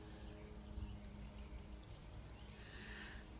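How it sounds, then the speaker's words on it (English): Water trickles and pours over stones in a rock-filled crock pot garden fountain set up as a pollinator waterer outdoors, a soft continuous babble heard alone at low level. "and then it does make a little trickling sound."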